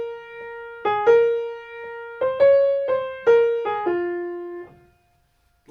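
Solo piano picks out the melody of a song, a few sparse single notes and short figures, close and clear, each note ringing and decaying before the last fades to silence.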